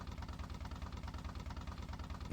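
A motorcycle engine in the Minetest video game idles with a fast, even low throb, steady and quiet throughout.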